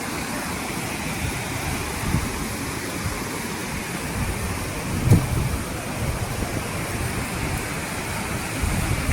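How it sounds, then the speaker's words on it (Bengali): Steady broadband rush of rain falling near a rocky waterfall, a continuous even wash with a brief louder spike around the middle and no voices. "বৃষ্টি পড়ছে বৃষ্টি"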